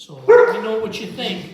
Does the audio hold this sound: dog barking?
yes